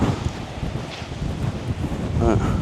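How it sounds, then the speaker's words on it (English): Strong gusts blowing across an island trail, a steady roar of wind buffeting the microphone with rustling underneath, loud and continuous. "Oh my God, this wind is insane."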